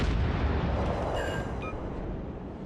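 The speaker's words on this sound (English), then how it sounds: "Yeah, he's shooting." Naval guns firing in World of Warships: Legends, a sustained heavy booming rumble with layered blasts and a brief higher metallic whine partway through, loud and continuous throughout.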